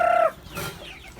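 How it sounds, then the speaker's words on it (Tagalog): A chicken on a farm gives a short, clear cluck up close, followed by softer rustling and faint bird calls behind it. "Ito, marami ding manok dito."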